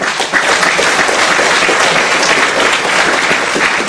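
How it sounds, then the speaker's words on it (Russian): An audience gives sustained, even applause, a thick wash of many hands clapping at once with faint talk beneath. "Просто аплодируем, друзья."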